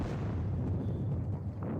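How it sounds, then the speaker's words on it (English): Cannon fire in a Napoleonic wargame at Valmy, a low rumbling artillery barrage rolling on steadily for a couple of seconds, moderately loud and without speech. "Beyond blasting me with cannon fire."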